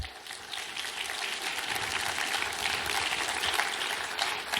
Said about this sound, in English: how about giving a round, warm welcome applause to Morgan Cutlip?